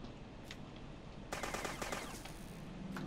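Rapid automatic gunfire in the zombie shooter game Dead Bits, a dense burst of shots lasting about a second after a single earlier pop, loud and close.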